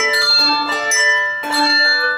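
A handbell rung close to the body gives two bright, ringing strikes about a second apart, each leaving a long sustained tone in a room.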